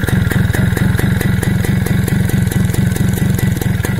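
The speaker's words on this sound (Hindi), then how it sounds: "अब मैं साइलेंसर की तरफ ले जाऊंगा तो साइलेंसर में आप साउंड सुने खाली" A TVS XL Super moped engine idles at the silencer, a loud, close, rapid and even putt-putt exhaust pulse with a rhythmic mechanical clatter, steady throughout with no talking.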